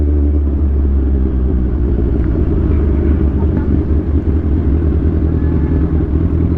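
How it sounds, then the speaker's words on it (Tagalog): A motorcycle engine idling to warm up, a loud close steady rumble with a low throbbing pulse and no revving, continuing without a break. "papainit lang tayo ng makina guys."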